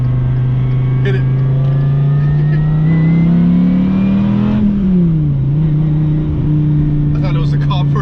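Dodge Viper ACR accelerating hard from a launch, its engine note rising loudly and steadily for several seconds before easing off, with faint voices in the background.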